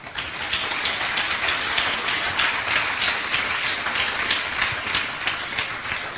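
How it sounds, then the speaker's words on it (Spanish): A church congregation claps for the Lord, producing loud, dense applause that keeps an even intensity throughout, with no speech. "Den un aplauso al Señor."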